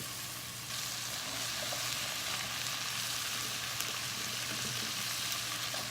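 Cut squash and zucchini sizzling with peppers in a hot pan for ratatouille, a steady dense frying crackle with faint stirring, continuous and close.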